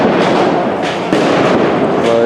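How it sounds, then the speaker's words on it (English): Flashbang grenades set off by police during a Seattle street protest, sharp blasts and crackles over a dense crowd roar, with a loud bang near the middle and voices mixed into the noise. "they're slowly moving people down to Broadway using the flashbang grenades and tear gas"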